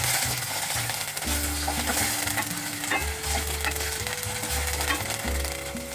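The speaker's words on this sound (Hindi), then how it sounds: "अब इसमें मैं डाल दूँगी चिकन कीमा। कलर चेंज होने तक फ्राई करेंगे।" Chicken mince sizzles and fries steadily in a hot pan, a dense continuous crackle with scraping stirring strokes throughout and a tonal hum underneath, no voices.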